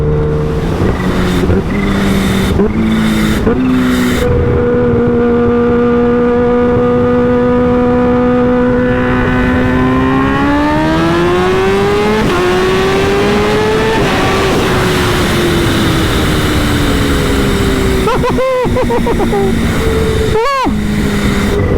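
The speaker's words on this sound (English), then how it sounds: "now with the baffle out of this VanDemon exhaust, it sounds the part" A loud, unmuffled Kawasaki Ninja H2 motorcycle exhaust, a VanDemon exhaust with the baffle removed, revs and holds, its pitch climbing steadily before settling, followed by a couple of sharp throttle blips.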